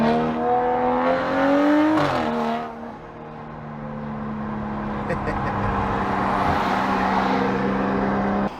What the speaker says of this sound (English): I can get Helen to do a flyby.